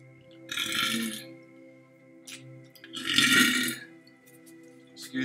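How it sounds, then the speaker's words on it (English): Two long, loud belches rumble out a couple of seconds apart, followed by a few short fainter throat noises. "All that belching."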